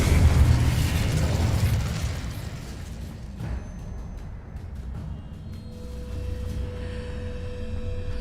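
A fire spell is cast in the video game Hogwarts Legacy: a loud, rumbling burst at the start that fades into a low, sustained hum with faint ringing tones near the end.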